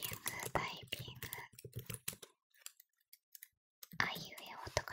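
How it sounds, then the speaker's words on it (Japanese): Close, soft clicking of computer keyboard keys in quick irregular runs, mixed with breathy ear-to-ear whispering in Japanese, dropping to near silence midway before typing and whispering resume. "タイピング"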